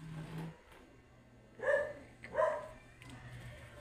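Dogs bark outdoors, with two short, sharp barks in quick succession at moderate distance. A low hum runs underneath, and no one speaks.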